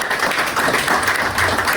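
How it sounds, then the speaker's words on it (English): A conference audience applauds the panelists after a discussion session, with steady, even clapping from a modest crowd that holds at a constant level throughout. "I would like now to say a big round of applause to the panelists"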